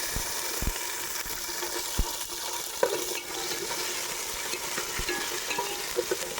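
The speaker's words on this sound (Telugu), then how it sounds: "ఇది కొంచెం మెత్తగా అవ్వాలి ఉల్లిపాయలు, అప్పటిదాకా కొద్దిగా వేపుకుందాము." Small onions fry in a pan for pulav, giving a steady, soft sizzle with occasional light clinks of a stirring spoon against the pan, close and fairly quiet with no talking.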